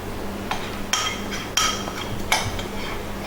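Scraping chocolate in a kitchen for chocolate bark, heard as four sharp metallic clinks and clunks of kitchenware spaced roughly evenly over a low background hum, close and fairly loud, with no talking.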